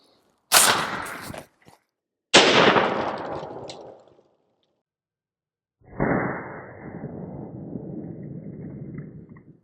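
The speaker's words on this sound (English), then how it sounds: "Next up, we have the 45 grain Remington hollow point 223 loading out of a 16-inch barrel" Two sharp .223 rifle shots of 45 grain Remington hollow points fired from a 16-inch barrel at an armor plate, each a loud crack with a decaying tail, followed later by a longer rumbling roar that fades slowly.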